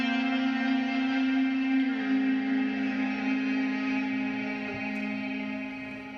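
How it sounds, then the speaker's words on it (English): An electric guitar played with an E-bow sustains a smooth, singing note drenched in big reverb, holding steady before slowly fading, with no voices. "This is called an E-bow."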